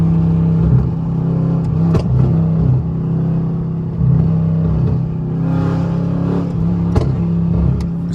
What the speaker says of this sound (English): It's still popping without the spark plugs and the exhaust.